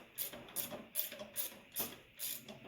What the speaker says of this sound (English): Watch what you're doing and start ratcheting.